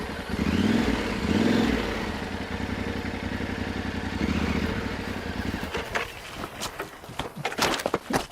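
A Yamaha Tenere 700 adventure motorcycle idling through a tight slow-speed circle drill, its engine thrumming steadily before sputtering and cutting out in a stall, followed by clattery mechanical knocks and shuffling near the bike.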